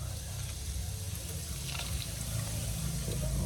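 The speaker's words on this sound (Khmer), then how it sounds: "សូដាគឺយើងធ្វើការចាក់លាងវាដែរដើម្បីឲ្យវាកាន់តែជួយសម្អាតជាតិឆ្អាបរបស់យើង" Soda water poured from a bottle over fish to wash it, splashing steadily against a low, continuous watery rush close by, with no voices.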